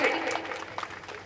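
Children clap at a school annual function, a dense patter of small hands under an adult voice urging them on, fairly close and moderately loud.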